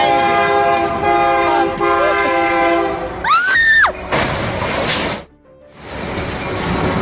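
A train horn blasts loudly in a few sustained, wavering tones over the steady rumble of an approaching train, followed by a burst of noise.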